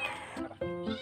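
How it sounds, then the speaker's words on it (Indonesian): Kittens meow close by in a quick burst of two or three high, plaintive cries. "di sini tuh ada anak-anak kucing, jadi agak berisik"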